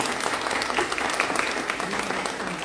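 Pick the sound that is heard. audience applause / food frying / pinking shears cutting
audience applause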